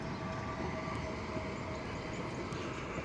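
A train in Durban passes at a distance with a continuous broad rumble and rail noise, steady and moderately loud throughout, with no talking.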